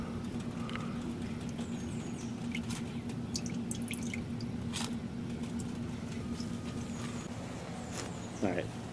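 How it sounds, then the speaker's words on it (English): Gasoline dripping from the float of a lawn mower carburetor with water in the gas and corrosion, a faint, steady patter of small drips over a constant low hum, with voices and brief clicks. "Add a little gas. All right, so it's dripping."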